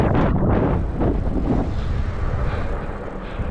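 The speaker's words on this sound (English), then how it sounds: "Wind's kicking up." Steady, rumbling wind buffets the microphone while riding an e-bike through an empty urban area, loud and continuous throughout without any talking.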